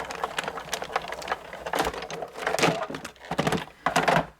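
An embossing machine presses printer paper through an embossing folder, giving a rapid series of loud mechanical clacks and thunks in uneven bursts, close and without talk.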